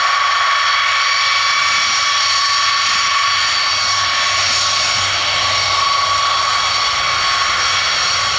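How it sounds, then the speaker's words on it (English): A B-52 bomber flies past at the Royal International Air Tattoo 2023 air show, a loud, steady jet roar that fills the whole stretch without any talk. "Wait until the B52 has gone past."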